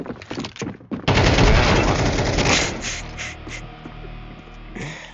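Counter-Strike 2 gunfire: a few sharp single shots, then a loud, dense burst of rapid automatic fire that gradually thins out into scattered shots and echoes.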